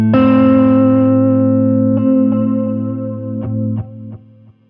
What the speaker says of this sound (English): That's the modulation sound.